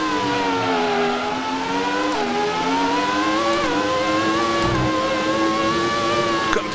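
A race car in the Automobilista racing game braking hard and downshifting through the gears, a loud continuous engine whine that steps down in pitch with each gear change, close and sustained.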